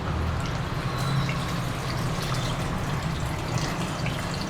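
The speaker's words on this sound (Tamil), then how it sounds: "கரைச்சி வச்சுருக்க புளி தண்ணியை ஊற்றிக்கலாம்." Tamarind water being poured into a cooking pan gives a steady, continuous liquid splash and trickle, close and even in loudness for several seconds with no talking.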